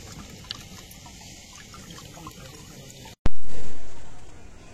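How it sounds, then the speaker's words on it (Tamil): Tamarind water poured into a cooking pot during outdoor terrace cooking: a low, steady background, then a sudden loud gush of liquid near the end that gradually tapers off. "தண்ணி ஊற்றுவேன்"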